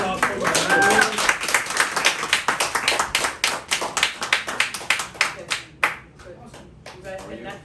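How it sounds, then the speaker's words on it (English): Small audience clapping at a talk, a dense burst of hand claps that thins into scattered individual claps and fades out, with voices murmuring underneath. "Big round of applause"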